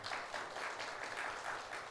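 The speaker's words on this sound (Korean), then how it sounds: "박수로 환영해 주시기 바랍니다" A church audience applauds to welcome a pastor at a family-life seminar, a steady, moderately loud wash of many hands clapping for about two seconds with slight pulsing, no voices over it.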